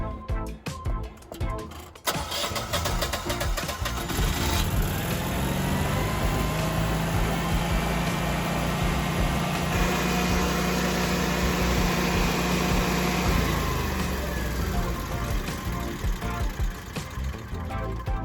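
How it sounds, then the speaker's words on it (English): After a few seconds of clattering, an engine starts and settles into a continuous steady running drone, loud and close, with a slight shift in tone midway. "Let's go ahead and start the engine and give it a minute to run."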